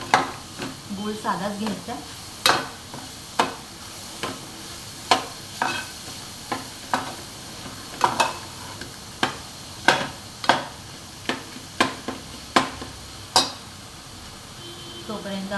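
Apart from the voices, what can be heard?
sautéing modak filling in a pan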